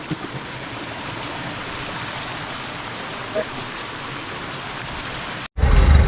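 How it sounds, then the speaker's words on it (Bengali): Cold stream water rushes steadily in the Parasnath Hills, Jharkhand, a close, even broadband wash; near the end it cuts out briefly, then returns louder and boomier. "জলের স্রোত"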